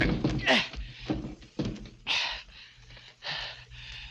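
In a radio drama effect, furniture is piled against a door: a series of heavy wooden thuds and scraping knocks at uneven intervals, close and fairly loud, with breathy sounds between them.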